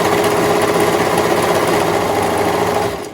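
A serger overlocks the edge of cotton lycra fabric with a fast, continuous mechanical buzz and rattle, close and steady throughout, tapering off just at the end.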